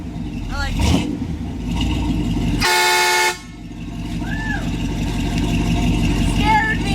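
A loud air horn on a 1966 Chevy truck fitted with air bags blasts once for under a second, a bright tonal honk over an idling engine, with voices talking before and after.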